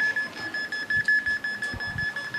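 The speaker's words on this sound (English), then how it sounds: "it's going to beep because of the magnetic field" A science-fair beeper device sets off a steady, high electronic beep that pulses rapidly and evenly in response to a magnetic field, continuous and fairly close throughout with faint low knocks beneath.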